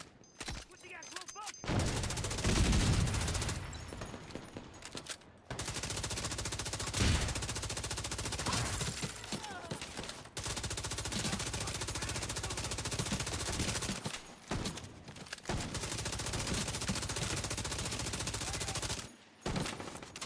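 Sustained, loud machine-gun fire in a shooter game, nearly continuous with short breaks, with occasional speech underneath.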